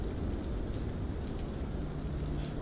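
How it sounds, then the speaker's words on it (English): Rain falls in Microsoft Flight Simulator over an Australian desert, a dense, steady hiss of drops drumming on a surface that stays constant and fairly loud throughout. "it is raining here in the desert"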